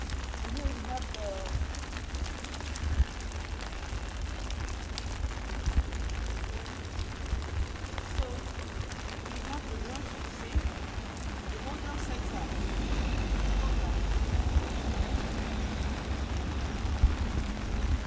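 Rain falls steadily on an outdoor estate, Hockley estate at Eko Akete, Abijo, as a continuous broadband hiss that runs through the whole stretch, with a person talking faintly over it.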